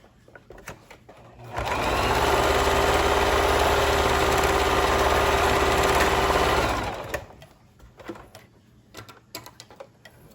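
A sewing machine runs a straight stitch through folded fabric, starting after a pause and whirring steadily and loudly for about five seconds, then stopping, with quiet handling noises before and after.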